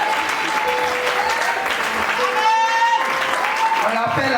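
A church congregation applauds steadily and loudly throughout, a dense continuous clatter of hands with a crowd murmur and a held keyboard tone underneath.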